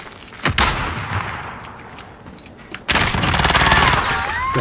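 Rapid gunfire in a video game, a loud burst of shots early on followed by a long, dense automatic volley near and continuous.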